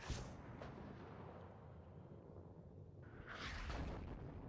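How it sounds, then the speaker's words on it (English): Artillery fire in the Cold War strategy game WARNO rumbles faintly in the distance as low, muffled booms under a wash of battlefield noise. "Artillery now going to be going again."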